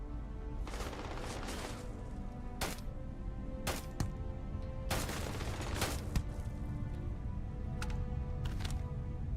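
Enemy gunfire in Starfield: repeated bursts of shots and loud cracks from several weapons over a continuous background din.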